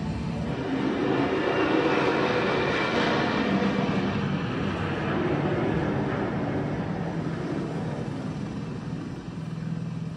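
A jet aircraft lands on an aircraft carrier deck and is caught by the arresting cable, producing a loud, continuous engine roar that holds steady throughout, with no speech.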